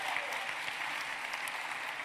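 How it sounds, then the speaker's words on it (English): Town hall audience applauding at a constituent meeting hosted by a congresswoman, steady dense clapping filling the room throughout, even and sustained with no break. "Let Jeff know he got a lot of applause tonight."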